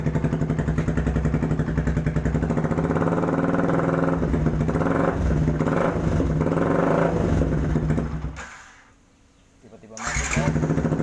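A Yamaha R15 V2 with a right-side cobra-style underbelly racing exhaust revs loud and close at high RPM with a steady rasping drone. It abruptly dies out near the end, then fires back up.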